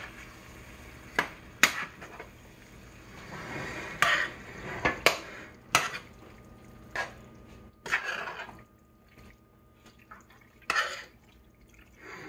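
Lasagna ingredients stirred in a pot, a spoon scraping and clinking against the metal with wet, sloppy squelches, coming in irregular bursts close up, and no one talking.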